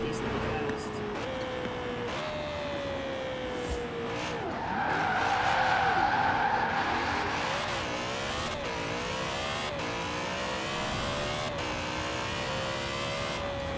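Racing-game BMW 2002 Turbo drifting, with a steady engine drone and tire skid swelling loudly mid-way as the revs rise and fall, while a person talks over it throughout.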